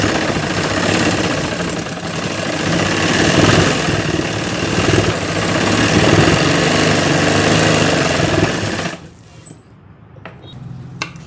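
A sewing machine runs steadily while stitching the net panels of a bridal lehenga, a loud continuous motor whir with rhythmic needle chatter for about nine seconds, then stopping into quiet room tone with a few light clicks.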